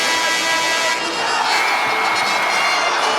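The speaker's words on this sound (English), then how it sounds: "Crowd goes absolutely wild, thinking that the ball went off of TCU" Arena crowd at a TCU versus Texas college basketball game erupting in loud, sustained cheering and shouting, a dense roar that swells and holds.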